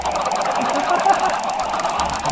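A chicken in the Minecraft video game clucks and squawks, short loud bursts close up over a steady hiss of rain.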